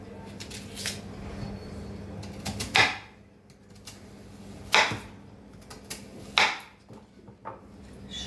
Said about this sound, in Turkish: Burada iki adet kuru soğanım var. Şöyle halka halka. Onları doğruyorum.